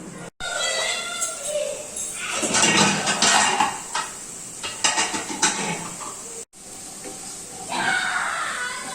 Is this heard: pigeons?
no